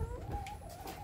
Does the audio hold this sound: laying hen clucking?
yes